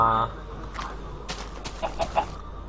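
Minecraft chickens clucking in a forest setting, a few short soft clucks near the end, faint under game ambience after a brief tone at the start.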